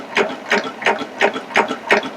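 A Baby Lock Applaud cover stitch serger stitches over two decorative cords, giving a close, loud, rhythmic mechanical clatter that pulses about three times per second.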